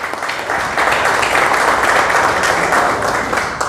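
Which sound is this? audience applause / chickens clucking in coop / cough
audience applause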